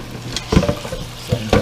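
Thick chicken thighs being turned in an air fryer basket, giving a few short, close scrapes and thumps over a faint sizzling hiss.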